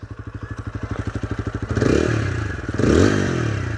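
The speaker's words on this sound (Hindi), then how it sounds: "मैं आपको एक बार इसका ज़रा एग्जॉस्ट नोट भी तो सुना दूँ।" A TVS Apache RTR 160 motorcycle idles with a rapid, even exhaust putter up close, then is revved twice, each rev rising into a louder rasping roar before dropping back.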